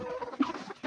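Chickens cluck softly at a farm in a muddy yard, a few faint, short calls at a moderate distance with no talking.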